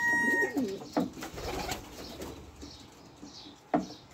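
Racing pigeons in a loft give soft, throaty coos up close, with a few sharper calls and some light fluttering, and no voices over them.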